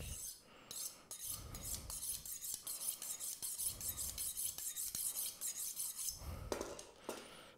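A kitchen knife gets wiped down, a soft continuous rasping rub with faint metallic scrapes, close and fairly quiet, no talking.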